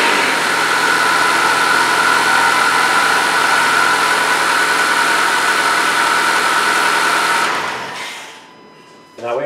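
A car engine idles steadily after an oil change, a loud, constant hum running for about eight seconds before being shut off and winding down, then a brief restart-like burst at the end.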